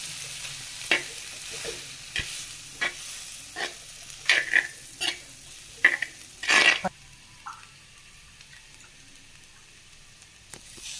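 Drumsticks with kuzhambu, coriander and chilli powders being sautéed in a village clay pot, a soft sizzle under intermittent stirring clicks and scrapes.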